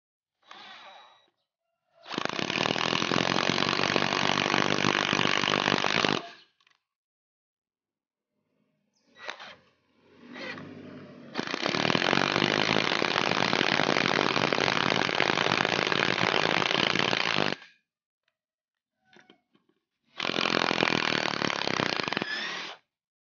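A 20V cordless impact driver drives a 10 cm hex-head screw, 6.5 mm thick, into 15 cm mahogany with no pilot hole, in three loud, close hammering bursts of a few seconds each with short quiet pauses between them.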